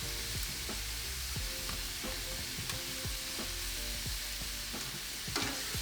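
Marinated beef sizzling on a BBQ grill, a steady close fry with crackles and small pops and scraping clinks from cooking utensils throughout, without talk.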